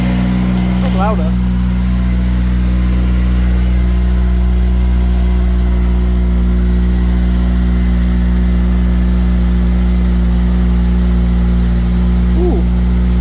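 A Honda Civic Type R FN2 fitted with a Piper sports cat and manifold runs on its first start. It settles into a loud, steady idle with a deep, constant rumble close by, and brief voices come through over it.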